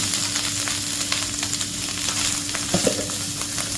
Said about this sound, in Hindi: सौटे करते हैं इसे